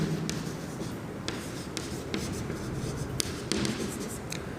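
Chalk or marker strokes on a board during a university mathematics lecture, with a series of short scratchy taps and strokes over a steady hum of room noise.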